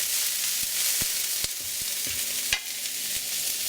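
Green onion and ginger sizzling in oil in a pan before ham and turkey go in, a loud steady hiss with scattered clicks and taps of a utensil, no voices.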